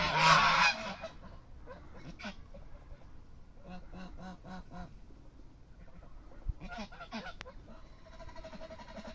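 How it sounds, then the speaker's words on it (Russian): Domestic geese grazing outdoors give a loud burst of honking at the start, followed by scattered nearby honks and cackles, some in quick repeated runs, with faint background noise throughout. "гуси пасутся."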